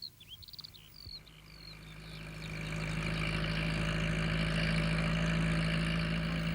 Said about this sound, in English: On the way home, Pat met Alf Thompson on his tractor